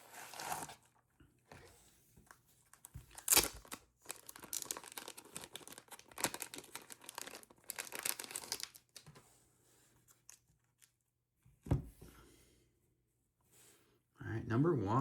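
A sports card shipment package is opened by hand, with faint crinkling, tearing and rustling in intermittent bursts between quiet gaps and a sharper rip at the end, while a voice talks.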